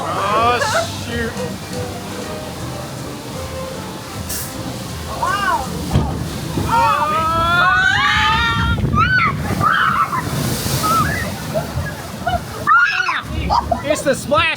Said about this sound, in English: It's the splashback that's the problem.